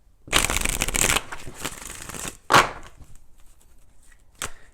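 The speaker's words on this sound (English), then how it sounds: "let's go ahead and do 4 shuffles" Tarot cards riffled in a long shuffle lasting about a second, followed by a second longer shuffle and a couple of short, crisp card snaps, fairly close.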